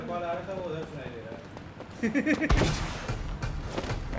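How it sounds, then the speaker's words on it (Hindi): A sharp burst of gunfire in the video game Farlight erupts midway through, followed by scattered shots and game-like noise, with people chattering throughout. "गोली चली गोली चली गोली चली मेरे पे ही चली है"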